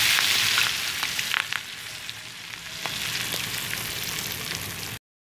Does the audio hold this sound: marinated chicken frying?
yes